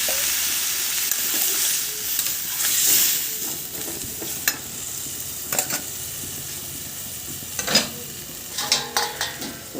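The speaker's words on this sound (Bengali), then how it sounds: "এবারে জল ঢেলে দেবো" Water poured into a pan of fried spice masala, being cooked for a fish curry, sets off a loud, steady sizzle with scattered sharp crackles and spits, close up and alone, with no voices.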